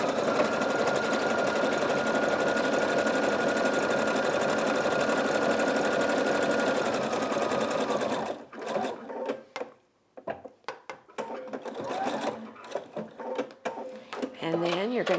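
Computerized sewing machine running an overlock stitch along a sachet seam, a loud continuous mechanical whir for about eight seconds, then stopping, after which someone speaks.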